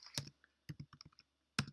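Typing on a computer keyboard: a few sparse, close key clicks in small bursts with short pauses between, quiet and alone.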